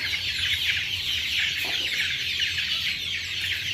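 Backyard chickens clucking steadily and close by, a continuous flock chatter of bright, busy calls with no pauses throughout.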